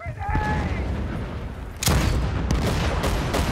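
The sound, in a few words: gunfire in video game Battlefield 1943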